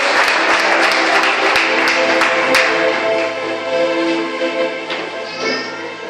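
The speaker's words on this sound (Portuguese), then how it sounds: "dá uma salva de palmas para Jesus" Church congregation applauding together, a dense steady wash of clapping with a few sharper individual claps standing out, sustained loudly before easing slightly toward the end.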